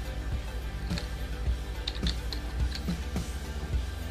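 Someone types a folder name on a Windows computer keyboard: a quiet, irregular run of light key clicks over a low steady hum, with no talking.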